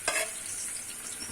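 Chopped onion and garlic drop into hot ghee in a pan, a bright burst of sizzling and crackling that settles into a steady, close frying hiss over a second or so, with no voices.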